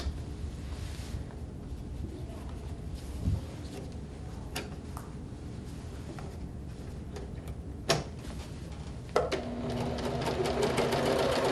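A sewing machine stitches fabric with a steady, continuous mechanical whir and rapid ticking for the whole stretch. A few brief knocks break in, and the running grows slightly louder near the end.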